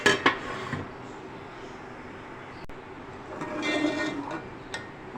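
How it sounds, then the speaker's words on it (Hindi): Metal lid set onto a pot of simmering chicken curry in a home kitchen, a few close clinks and a scraping rattle at the start and around the middle, then a final tap, with no talk. "अब मैं इसे कवर करके रख दूँगी तकरीबन 10 मिनट के लिए बस"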